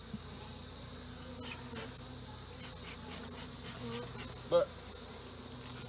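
Honey bees in a spring nuc hive give a steady, faint insect hum under low background noise, with one brief louder sound near the end.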